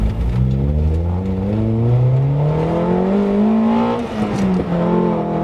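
A Nissan Sentra 200sti with an SR20DE engine pulls away from a stop, its engine note rising steadily and loudly as it accelerates, heard close from inside the car.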